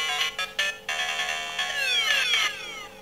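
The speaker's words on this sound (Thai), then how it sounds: "เสียงเกมโอเวอร์ครับ" Electronic chiptune-style game over jingle from a toy DX Doremifa Beat Gashat for a Kamen Rider transformation belt, several bright synth tones then a descending sweep, played loudly through a small speaker with no talk.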